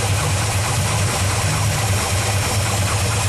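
A Chevy small-block V8 in an old van runs steadily during a cam install with its accessories disconnected, giving a loud, continuous close-up rumble with no talking.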